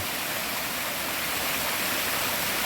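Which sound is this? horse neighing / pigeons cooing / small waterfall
small waterfall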